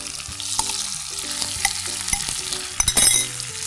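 Turmeric-soaked prawns tossed into a hot pan, sizzling and frying for a prawn sambar, with close clinks and scrapes of stirring over a steady hiss.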